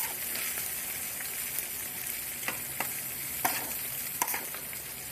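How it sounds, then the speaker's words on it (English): Suadero beef frying in its own rendered oil, a dense, steady sizzle close up with occasional sharper crackles and pops from spattering fat. "Letting it fry, the oils come out."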